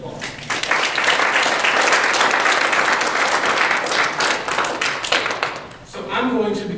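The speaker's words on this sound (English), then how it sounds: "Give them a round of applause." An audience applauds the slate of poets at a poetry reading, a dense, steady wash of many hands clapping that fills the room for several seconds, then thins as a voice begins speaking near the end.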